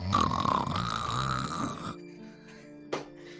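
Someone imitates loud snoring with their voice, producing a rough, rasping snore close up for about two seconds, followed by a quiet stretch and one brief sound.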